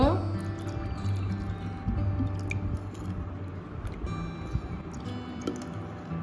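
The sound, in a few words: pouring water into yogurt for lassi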